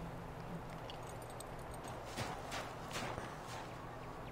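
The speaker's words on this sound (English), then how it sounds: "Let's see, we're riding the horse." Faint clip-clop of horse hooves at a steady walking pace under a low hiss of background noise, distant and quiet, in the video game Assassin's Creed 3.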